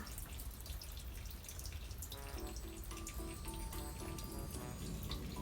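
Water trickles and drips through trays of bird's eye chili seedlings, a faint, continuous wet patter with scattered small droplet plinks over a steady hiss, heard alone.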